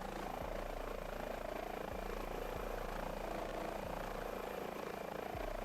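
An Airbus H145 search-and-rescue helicopter hovers in Microsoft Flight Simulator 2024, giving a loud, steady rotor and turbine drone with faint periodic blade thumps and no voices.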